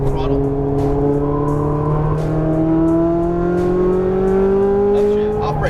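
An exotic car on a Las Vegas race track, heard from inside as the engine revs climb steadily in loud, continuous acceleration with shifts, while a voice gives instructions over it.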